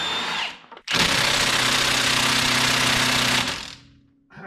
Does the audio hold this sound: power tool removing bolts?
yes